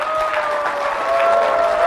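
Audience applause at a motivational seminar, a short steady patter of clapping from a seated crowd, moderately loud and continuous.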